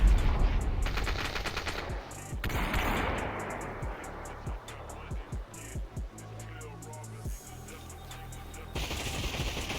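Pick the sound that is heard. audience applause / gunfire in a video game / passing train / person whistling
gunfire in a video game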